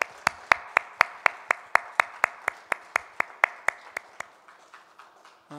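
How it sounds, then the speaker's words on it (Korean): A church congregation at a Korean worship service claps in unison, about twenty sharp, evenly spaced claps in a steady rhythm that gradually softens and trails off near the end. "하나님께 영광의 박수 올려드리겠습니다."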